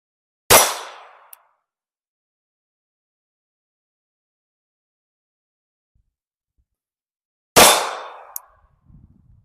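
Two sharp, loud gunshots, one from a .22 long rifle and one from a 9mm, ring out seven seconds apart, each with a short decaying tail in otherwise quiet surroundings.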